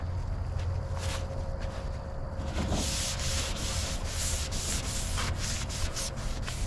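A rag rubs and buffs painted metal with a patina finish, making steady scrubbing strokes that grow denser and louder partway through, close up, with no talk.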